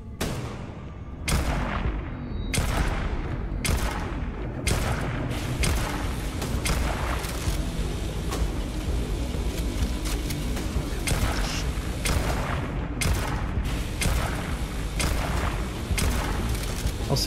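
Sustained gunfire and explosive booms in the space RPG Starfield, with repeated sharp broadband shots and blasts going off continuously, loud and dense throughout with no pauses.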